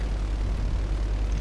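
Propeller plane engine in GTA 5 rumbles with a dense, steady low drone, loud and continuous without a break.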